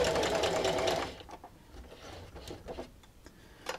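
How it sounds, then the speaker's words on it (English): A sewing machine stitches an outdoor throw pillow in a quick, fast-running burst for about a second, then stops, leaving faint ticks, clicks and handling noises. "And just keep sewing."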